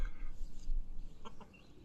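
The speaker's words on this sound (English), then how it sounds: "I don't know why the rooster is crowing in the middle of the day." A farmyard rooster crows in the middle of the day, a short, fairly faint call rising out of steady low background noise, with a few clucky chicken notes near the end.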